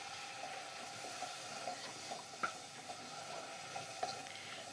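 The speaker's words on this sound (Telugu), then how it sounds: "టమాటాలు కూడా కొద్దిగా ఫ్రై చేసుకోండి తక్కువ ఫ్లేమ్లో" Tomatoes with turmeric and chili powder fry gently in a pan over a low flame, giving a soft, steady sizzle with a few faint stirring clicks and scrapes now and then.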